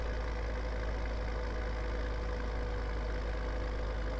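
An old tractor engine labouring up a steep grade in Farming Simulator 17, a constant low, droning rumble that holds steady and unbroken, with no talk.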